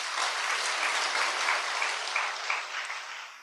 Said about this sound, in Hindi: एक बार जोरदार ताली अपने आप के लिए